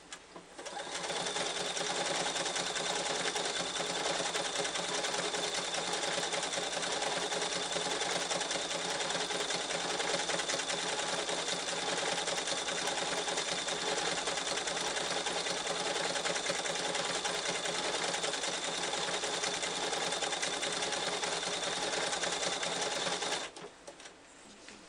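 A sewing machine stitches white thread through quilt binding in one steady, loud, close run of fast even stitching. It carries on for over twenty seconds, then stops abruptly.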